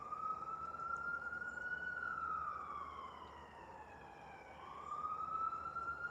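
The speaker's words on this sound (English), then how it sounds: "I hear ambulance or police or something." A distant police or ambulance siren wails outdoors from a back porch, a steady rising and falling tone that swells, dips and returns over a faint background hiss, with no talking.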